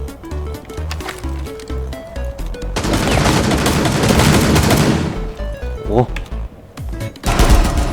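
Rapid gunfire from the video game Rainbow Six Siege, with dense bursts of shots filling the middle of the clip, loud and close, while a player talks excitedly over the shooting.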